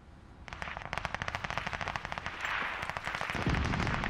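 Rapid automatic gunfire in a Call of Duty: Vanguard Champion Hill match: a close, sharp burst of about two dozen shots, followed by rougher overlapping fire and a heavier impact.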